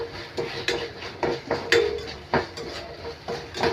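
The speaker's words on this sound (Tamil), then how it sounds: "இப்போ இதில் வந்து நான் கட் பண்ணி வச்சுக்க வெங்காயத்தை சேர்த்துக்கிறேன். அதை நல்லா வந்து ஃப்ரை பண்ணுங்கள்." Chopped onions are tossed and stirred in a hot pan while cooking paneer chilli masala, with repeated sharp clinks and scrapes of a utensil against the metal pan at an uneven rhythm, close and alone.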